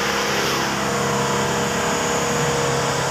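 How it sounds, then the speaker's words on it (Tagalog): A wood chipper engine used to grind wood into mulch in BGC runs loud and steady at close range, a constant mechanical drone without pauses or speech. "Ang tawag po dyan ay wood chipper."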